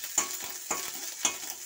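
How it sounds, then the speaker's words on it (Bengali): Onion and ginger paste fry in a pan with a steady sizzle, punctuated by four scraping stirs at a regular pace, close and fairly quiet. "আমি এর মধ্যে এবার আদা বাটাটা দিয়ে দিচ্ছি। ভালো করে ভেজে নেব।"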